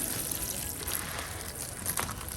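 Water is poured over spinach and other plants in a home vegetable garden, a steady close splashing and trickling that runs unbroken for the whole stretch, with no voices over it.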